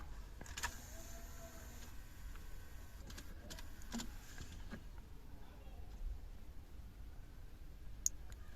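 Faint mechanical clicks repeat irregularly as a faulty climate servo motor in a VW T5 Multivan stutters back and forth, while someone talks over them.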